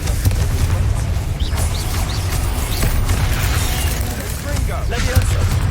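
A Confringo spell explodes in Hogwarts Legacy amid a continuous rumble of booms, fizzes and mechanical clatter from the game's battle, with a voice in the mix.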